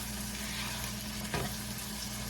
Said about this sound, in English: Yep, we want this to get nice and sauteed.